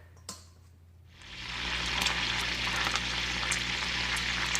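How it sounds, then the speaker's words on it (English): Tap water running into a kitchen sink as peeled, deveined shrimp are rinsed: a click and a quiet pause, then a steady broadband rush that rises and keeps flowing, fairly loud and close, with no talking. "We're going to rinse them off in the sink."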